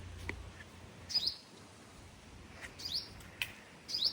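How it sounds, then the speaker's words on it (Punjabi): A sparrow in a paddy field gives short, high chirps in three or four brief bursts spaced a second or so apart, faint against a quiet outdoor background. "ਚਿੜੀ ਚਿੜੀ ਵੀ ਇੱਥੇ ਬੈਠੀ ਸੀ"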